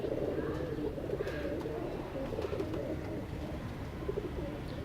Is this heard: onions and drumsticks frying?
no